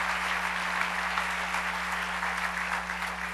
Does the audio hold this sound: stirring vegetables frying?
no